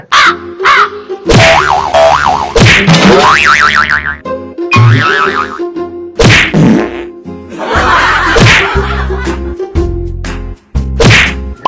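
Sharp comedic face slaps land repeatedly amid cartoon-style effects, springy boings and crow caws, all loud and close with short gaps between the hits.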